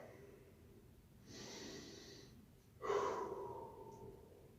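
Two slow, deep breaths during a yoga high lunge, a soft exhale followed by a louder, airy breath a moment later, close and quiet with no talk.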